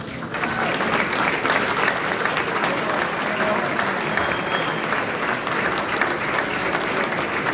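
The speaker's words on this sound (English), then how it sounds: "Please give a big applause for Mr. Cody McLean Brown" Steady, sustained applause from a gala dinner audience at the Sheraton Hotel in Zagreb, a dense, even wash of many hands clapping at close range that holds for the whole stretch.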